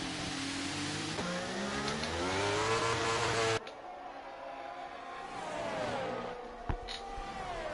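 F1 race cars battling in F1 23, a loud, whining engine note rising through the gears before an abrupt cut, then a lower, thinner engine tone with a brief sharp knock, continuous with no talk.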